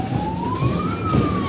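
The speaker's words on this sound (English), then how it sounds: "Hear the siren." An emergency vehicle siren at a climate protest blockade in Adelaide, a steady rising wail that climbs slowly in pitch and carries clearly over a dense, continuous bed of crowd and street noise.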